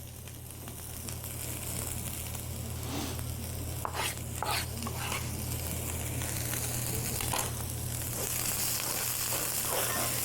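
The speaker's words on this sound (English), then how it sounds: "One quick fry up." Mushrooms frying in a pan, a steady close sizzle and crackle running the whole time with occasional stirring scrapes, no talking.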